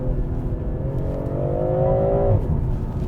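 From inside a car shifted into sport mode, the engine pulls hard, its tone climbing steadily for a couple of seconds before easing off, loud and close with no talking.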